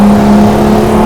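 A V12 Jaguar XJS engine holds a loud, steady, droning note at high revs on a race track, heard up close from the cabin without any talking.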